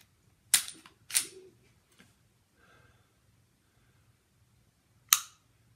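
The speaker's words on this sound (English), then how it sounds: "That's the reset, right? Audible reset." Sharp, close metallic clicks from the trigger and reset of an unloaded Sig Sauer P365 .380 striker-fired pistol, two quick snaps followed by a single click a few seconds later, in an otherwise quiet room.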